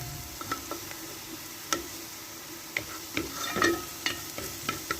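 Two large spoonfuls of garlic fry in oil in a pan for Egyptian koshari, giving a steady soft sizzle with small crackles and occasional stirring ticks, close and without talk.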